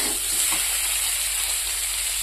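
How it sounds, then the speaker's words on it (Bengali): Water poured into a pan of sautéed potato and cauliflower sets off a loud, steady sizzling hiss that holds evenly throughout, with no voices. "পরিমাণ মতো জল দিয়ে দিলাম।"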